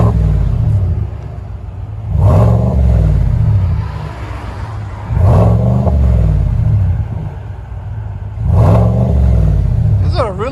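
A 2020 GMC Sierra Denali 6.2L V8 with a Borla ATAK dual exhaust revs three times at idle, each throaty blip rising and falling over a deep, loud rumble.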